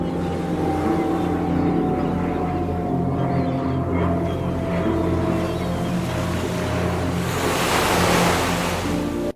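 Waves crashing and surf washing on a shore, added as a sound effect to sunset footage; a continuous loud roar over a steady low rumble, with the wash swelling near the end.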